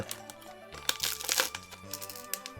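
Pokémon XY Evolutions card pack wrapper being torn open, close crinkling and crackling foil with a few sharp rips in a quick burst, over a faint steady background hum.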